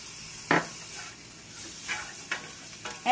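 Garlic and ginger hit a hot pan and sizzle, with a sharp hiss on entry followed by softer frying and a few utensil scrapes and clinks nearby.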